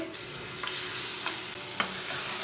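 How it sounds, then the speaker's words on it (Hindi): Cumin seeds, coriander seeds and crushed garlic fry in hot oil with a steady close sizzle, with occasional stirring scrapes through the pan. "सब चीज़ों को 1 मिनट तक भून लेंगे।"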